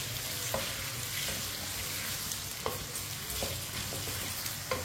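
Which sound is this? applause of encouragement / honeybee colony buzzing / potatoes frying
potatoes frying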